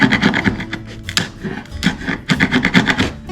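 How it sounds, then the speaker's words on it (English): A chisel works wood on a birdhouse lamp, making close, loud rasping scrapes in quick rhythmic strokes that come in two clusters with a brief pause between. "Let me get a chisel."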